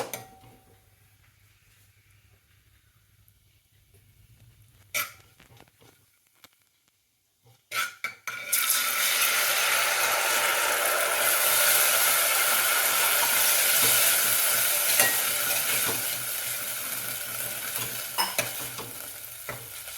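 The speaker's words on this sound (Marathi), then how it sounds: "आपण जी तांदळाची पेस्ट करून घेतलेली आहे ती पेस्ट घालून घेऊया" Rice paste goes into a pan of roasted dry fruits for rice kheer. After quiet scraping and a pause comes a sudden loud sizzle, and steady stirring and frying continue close up without any talk.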